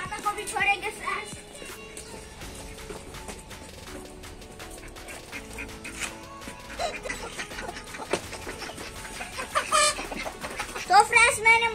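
Chickens and ducks cluck and call near a pen at a home mini zoo, a busy chorus of clucks rising toward the end while someone talks over them.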